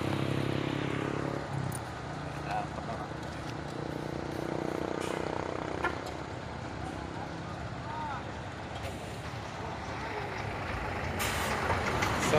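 A heavy truck rumbles steadily while stopped on a hillside road, with hissing bursts of air brakes. Voices carry under the continuous broadband engine and road noise throughout.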